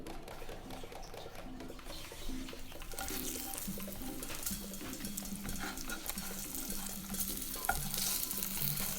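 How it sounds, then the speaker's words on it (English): Steady oil sizzle of flour-and-egg-coated tofu frying in a pan, continuous and close, with occasional soft scrapes and stirring sounds. "got our tofu frying there"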